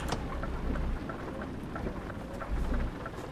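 Steady rain with rolling thunder in Euro/American Truck Simulator, a dense continuous wash of drops on the truck with low rumbles swelling near the start and again toward the end, no talking.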